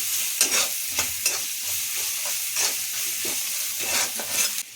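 Cooked rice being stir-fried with salt in a pan, a steady hiss of frying with repeated scraping strokes of a spatula, close and fairly loud, with no talk.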